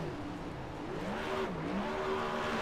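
Race car at Michigan International Speedway doing a celebratory burnout, engine note sliding up and down in a sustained whining drone, fairly distant and steady.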